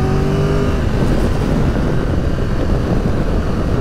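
A Triumph Tiger 1200 GT motorcycle engine drones steadily and loud while riding through a bend, a sustained rumble with a brief tonal whine at the start.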